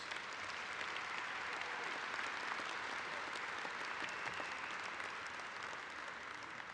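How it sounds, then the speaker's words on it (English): A large convention audience of union members breaks into sustained applause, a dense and even wash of clapping that holds steady throughout without talk. "Give them a round of applause."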